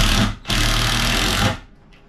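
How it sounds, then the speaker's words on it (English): A power drill drives a screw into wood for a rabbit hutch, a short whir, a brief pause, then a sustained loud second burst of about a second before winding down to quiet. "So I'm gonna drill that first one in"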